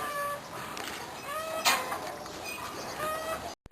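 Chickens cluck repeatedly close by, several birds overlapping in short rhythmic calls over a steady outdoor background.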